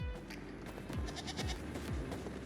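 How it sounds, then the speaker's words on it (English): Tameable goats in the video game Once Human bleat in short repeated calls, about four quick wavering cries spaced roughly half a second apart over a steady ambient background, with no talk. "This is where you will find goats. Now these are tameable and will give you wool."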